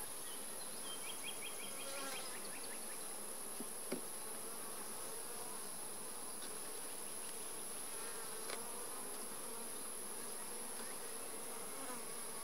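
Honey bees buzz steadily all around during a hive inspection, a dense droning hum with occasional individual bees passing closer.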